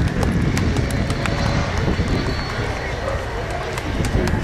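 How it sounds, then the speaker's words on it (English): An Avro Vulcan XH558 jet bomber, just landed at an airshow at RAF Fairford, gives off a loud, continuous rumbling jet roar, while someone talks over it. "There's the nose wheel coming down, all 18 wheels down on the ground. The Vulcan has landed."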